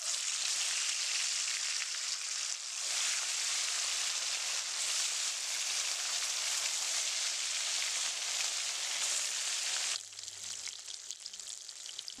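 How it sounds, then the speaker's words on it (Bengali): Marinated katla fish pieces sizzle in hot white oil, a steady, close crackling hiss that runs without pause and then dips and changes near the end as more fish goes in. "তেলটা আমার গরম হয়ে গেছে। মেখে রাখা মাছগুলো আমি দিয়ে দেব এক এক করে।"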